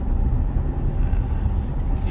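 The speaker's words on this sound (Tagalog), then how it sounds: "dinig na dinig mo yung road noise" Steady low rumble of road and tyre noise inside a moving 4x4 car, a dense continuous drone filling the cabin at a constant level with no talk.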